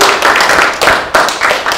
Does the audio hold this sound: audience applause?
yes